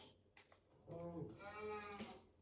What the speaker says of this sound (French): en tout cas pour l'instant sur cette île là il y a des vaches, il y a quelques moutons